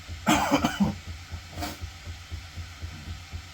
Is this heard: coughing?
yes